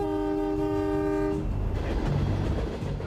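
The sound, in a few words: freight train locomotives running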